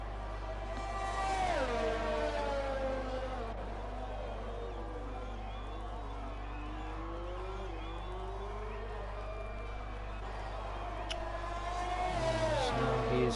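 An on-board race car engine during a lap in a racing video game at the Vietnam circuit, whining steadily and rising and falling in pitch through gear changes, with a faint crowd-like wash behind it.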